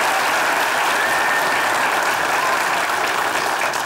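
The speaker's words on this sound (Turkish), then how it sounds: "Gerçekten oyuncularımızı bir alkışlayalım yani." A theatre audience applauds the actors after a stage performance, a loud, dense and steady roar of clapping that carries on without a break and without speech.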